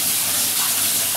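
Tap water runs in a steady, loud hiss from a kitchen faucet while something is rinsed off under it, continuous and close with no voices.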